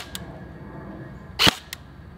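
Single airsoft gun shot firing a .40 g BB over a chronograph, one sharp snappy crack near the middle with a couple of faint clicks around it, alone against quiet room noise.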